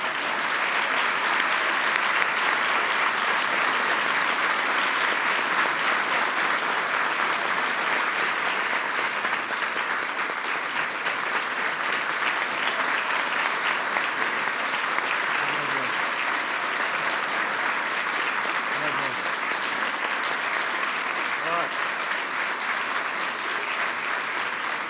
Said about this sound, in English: Please give them one last big round of applause.